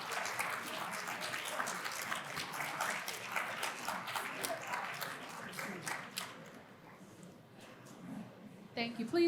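Audience at a poverty summit applauding a keynote address by a state representative, sustained clapping from a large room that thins out toward the end before a voice begins speaking.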